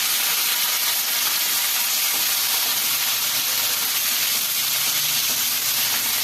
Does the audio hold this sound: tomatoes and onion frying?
yes